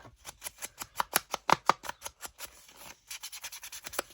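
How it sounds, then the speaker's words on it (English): A handheld sander working along a folded paper edge while making a junk journal folio, giving a quick run of close, rhythmic scraping strokes, roughly a dozen evenly paced passes, then a faster burst. "I'm going to fold it over and just go along it with the sander"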